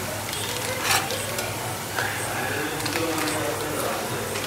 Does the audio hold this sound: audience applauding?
no